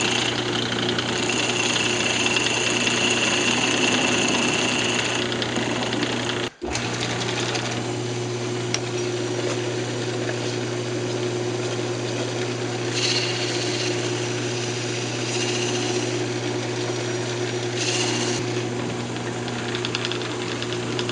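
Wood lathe spinning a speaker-box workpiece while a spindle gouge cleans up the bottom, a steady close machine hum and whir with a continuous scraping texture, briefly interrupted by a sharp click midway, then running on.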